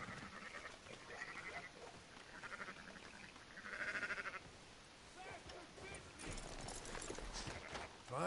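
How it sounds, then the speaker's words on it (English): Sheep bleat in a noisy ranch setting, with repeated calls rising over rustling and hoof clatter while people talk nearby. "Fine sheep"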